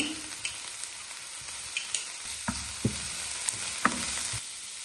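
Crushed garlic and ginger frying together in a pan, a steady sizzle punctuated by sharp clicks and scrapes of a utensil stirring at irregular intervals, no voices.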